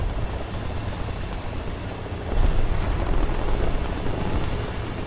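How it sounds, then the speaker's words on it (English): A helicopter approaching in the War Thunder tank battle game, a dense rumbling rotor and engine roar that swells a little louder midway and holds steady throughout. "Helicopter coming."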